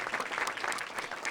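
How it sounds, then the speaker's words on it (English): An audience at a National MS Society Pathways to Cures event gives a round of applause, a dense, even patter of many hands clapping at a moderate distance. "Can everybody give them a round of applause"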